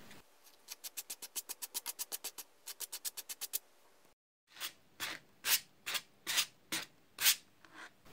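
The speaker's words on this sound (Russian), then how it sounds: "С помощью расчески для шерсти животных расчесываю нитки." A pet-hair comb drags through yarn threads in quick rhythmic strokes, a fast even run of short scratchy rasps, then a pause and slower, louder, separated pulls, all close up with no talking.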